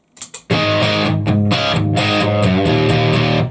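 An electric guitar through a distortion pedal into a Marshall DSL100H amp head: two quick plucked notes, then thick, buzzing chords ring out loud and sustained.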